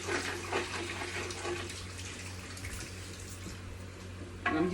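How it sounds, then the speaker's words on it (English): Water poured from above over cooked, oily sausages sitting in a strainer, a steady splashing and trickling stream running for several seconds before a brief louder clatter at the end. "I'm just gonna pour this water on them"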